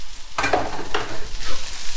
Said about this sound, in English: And we'll add the prawns in as well.